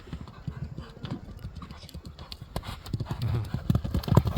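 Horse hooves clip-clop at a running pace, a steady quick patter that grows louder and closer toward the end, with faint voices in the background.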